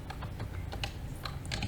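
Computer keyboard keys clicked in a quick, uneven burst of taps, close and fairly quiet over a steady low hum, with no talking.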